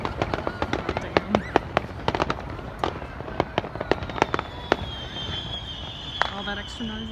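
Fourth of July fireworks, city and private displays together, crackle and boom in dense irregular bursts, near and far, with a whistling rocket climbing toward the end and voices murmuring underneath.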